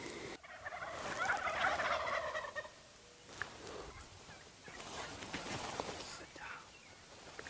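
A flock of wild turkeys gobbles excitedly in an open Nebraska field, bursts of gobbling rising and falling at moderate distance, with faint whispered talk nearby.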